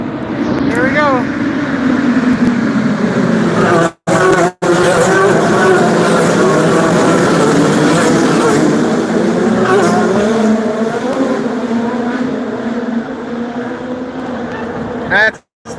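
Race car on track at the Honda Indy Toronto, engine droning loud and continuous with shifting pitch through the lap, briefly cutting out twice, while a voice talks over it.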